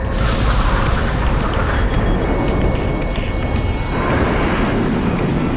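A missile impact explosion in Ace Combat X, a loud, sustained booming roar layered with jet-engine rumble that swells, shifts in tone partway through and keeps going without any voice over it.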